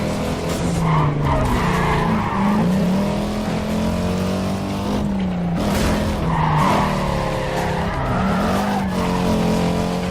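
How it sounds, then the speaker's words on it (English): Tires skid and squeal through a power slide in the Need for Speed Carbon racing game, a loud sustained screech over a revving engine that dips and rises as the car swings around a corner. "That's the kind of power slide you want, because it walks me around the corner perfectly"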